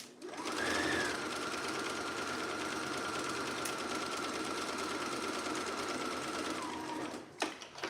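A sewing machine runs steadily on a long gathering-stitch setting along a dress hem, one continuous motor whir lasting about seven seconds before stopping with a couple of small clicks.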